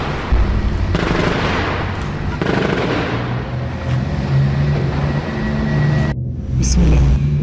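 War footage of an explosive device detonated against military vehicles: loud, continuous rumbling blasts and roaring noise, close and heavy, with abrupt cuts between bursts.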